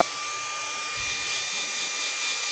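A blow dryer blasts a steady, broadband whoosh across a wooden woodturned goblet to dry its fresh coat of white paint, running continuously and fairly loud with a faint whine, no talking.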